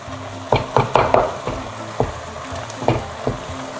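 Tomato paste stirred into a sizzling pan of seasoned meat for lasagna, a series of distinct scraping, clacking stirs over a low steady sizzle, close and without speech.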